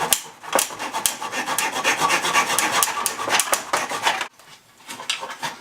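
Rhythmic back-and-forth rasping of a hand saw cutting wood in a miter box, close and steady, pausing briefly near the end before a few more strokes.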